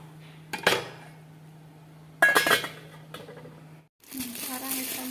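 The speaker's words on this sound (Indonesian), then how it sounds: "kita bisa tutup dulu ya, biarkan sampai empuk" A metal lid clanks onto a cooking pot of boiling food in a village kitchen, two or three sharp clinks close by against a low steady hum, followed by a short burst of sizzling.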